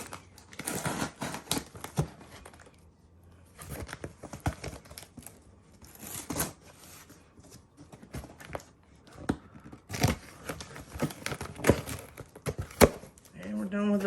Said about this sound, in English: So go ahead and use this knife. Get this box open.